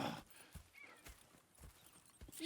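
Horses in the video game Red Dead Redemption 2 give off quiet, rhythmic clip-clop hoofbeats at an even walking pace, faint and fairly close, with no speech.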